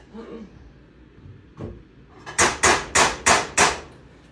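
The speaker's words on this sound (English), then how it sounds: "Sorry for the construction noise." Faint background murmur, then a lone knock followed by five loud, evenly spaced construction hammer strikes nearby.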